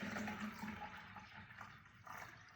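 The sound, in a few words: pouring water to fill a garden pot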